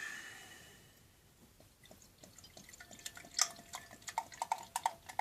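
Amber ale trickles and splashes into a glass, starting quietly and building into a series of gurgling pours and drips, close by.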